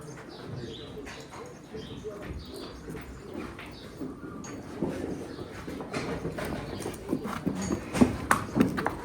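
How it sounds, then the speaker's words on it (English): Horses walk through a busy barn, their hooves clip-clopping on the floor in an uneven rhythm that grows louder and nearer toward the end, with birds cooing and chirping in the background. "Horses are coming and going, and certain horses are getting hooked, certain horses are getting unhooked."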